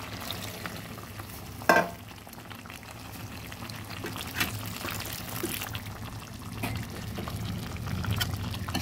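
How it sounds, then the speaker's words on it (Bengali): Chicken curry (desi murgir jhol) is stirred in a pan with hot water added, producing a soft continuous simmer and sizzle with occasional spoon scrapes and one sharper clank, quiet and close. "ভালোভাবে নেড়ে দিচ্ছি"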